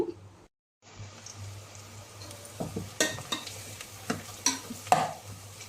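Green chicken gravy paste fries in oil in a pan, with a low hum under a soft sizzle and a run of sharp spoon-scraping stirs in the second half, close and fairly quiet.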